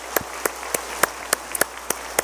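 Slow, isolated hand claps echo in a church sanctuary during a Sunday service, about ten sharp, evenly spaced claps with quiet gaps between them.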